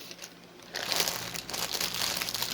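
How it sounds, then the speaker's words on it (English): A crinkly plastic bag wrapped around a no-name Mulan cross stitch kit rustles and crackles steadily, growing louder after a quiet start and continuing in close, busy crinkling with no talk. "Let's get it out of the crinkly bag first."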